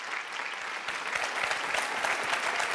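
A studio audience on a Turkish morning talk show claps steadily, a dense even burst of applause at moderate volume throughout.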